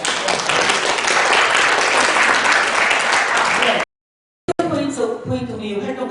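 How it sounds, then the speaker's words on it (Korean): Audience at an indoor talk by a Palestine solidarity activist gives steady, full applause for nearly four seconds; it cuts off abruptly, and after a short silence a voice begins speaking. "여러분 힘찬 박수로"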